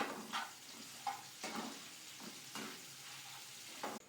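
Onion dropped into hot oil with dried red chilies, cardamom, cinnamon and cloves gives a close, fairly quiet sizzle, with a few stirring scrapes and knocks against the pan. No one speaks.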